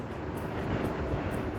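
An old, noisy RX motorcycle passing on an evening street in Pekanbaru: a loud, continuous rough engine roar that stays close and steady throughout, with no voices.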